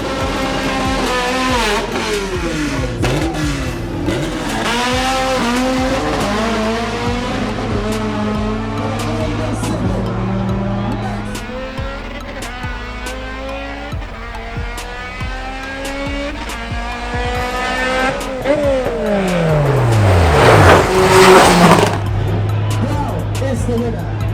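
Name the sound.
Honda Integra drag racing run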